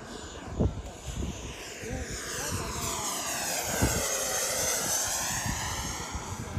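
An XFLY T7A 80mm electric ducted-fan RC jet flies a steady pass before landing, its high whining fan roar sustained and shifting in pitch as it sweeps overhead, with some faint background voices.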